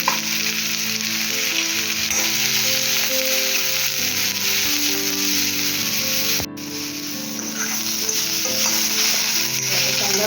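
Grated ginger sizzling and frying in a pan for a Marathi-style prawn curry, a steady dense crackle that carries on close and loud with a brief dip partway through.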